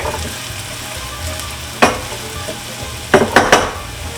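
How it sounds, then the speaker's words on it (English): Onions sautéing in a pan, a steady close sizzle with a sharp scrape of the utensil near the middle and a quick cluster of three clattering stirs toward the end. "We have our onions sauteing in our pan here."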